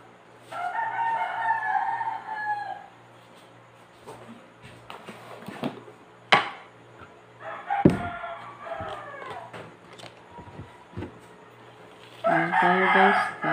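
Several roosters crow one after another over about thirteen seconds, some near and some farther off, with scattered knocks and clatter between the calls.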